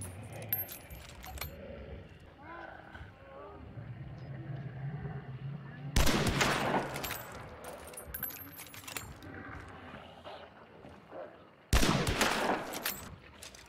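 Gunfire in the shooter game Hunt: Showdown produces two sharp, loud shots several seconds apart, rising over quieter background clatter and low rumbling.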